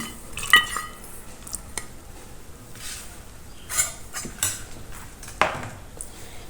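Washed chana dal is tipped into a pot of vegetables, bringing scattered sharp clinks and knocks of utensil on metal over a quiet background.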